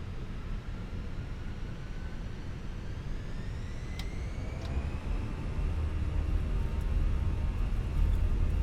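A simulated Airbus A320 (Fenix model) takes off at Manila in Microsoft Flight Simulator 2024, a steady rumbling jet roar with rising engine whine building in loudness throughout, without speech.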